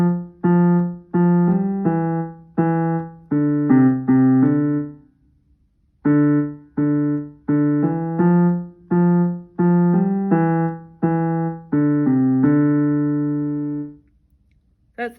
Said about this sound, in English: Now, Pirates of the Caribbean sounds like this.